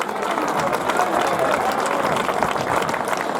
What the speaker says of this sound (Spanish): Un aplauso para el alcalde de Villalar.